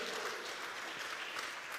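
A church congregation breaks into steady, dense applause, a continuous wash of many hands clapping at once in a large room, heard faintly and without talk.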